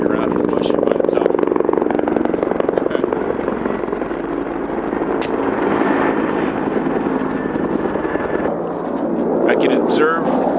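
A helicopter circles overhead in the bush, a loud, continuous rotor roar that swells and fades slightly, mixed with wind buffeting.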